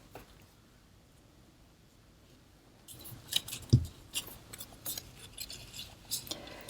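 Scissors snip paper over a muffling cloth, starting after a quiet lull with a run of close, crisp cuts and rustles.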